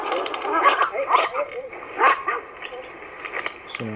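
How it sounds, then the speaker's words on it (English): A small dog barks and yips in short, sharp bursts at moderate distance during a bike ride, several quick barks clustered together before tapering off. "just that little shit of a dog."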